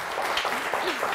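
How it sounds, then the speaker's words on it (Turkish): Studio audience applause on a Turkish word game show, a continuous bed of clapping with a voice talking over it throughout the short stretch. "Bir alkış daha ne olur."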